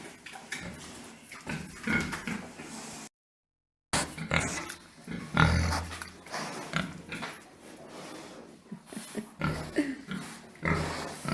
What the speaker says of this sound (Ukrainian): наші свині підросли чи ні?